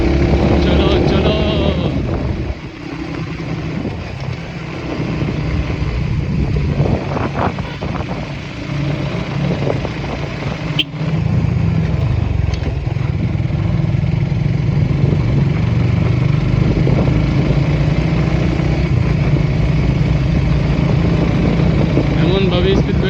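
A motorcycle ridden along a hilly road with speed breakers gives a steady, close engine drone mixed with wind rush, running continuously throughout with a brief bump near the middle.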